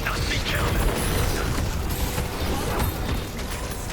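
Loud crashing blast and clattering mechanical impacts in a Viscous and Bebop match, a big bomb going off amid continuous busy game noise that fades slightly at the end.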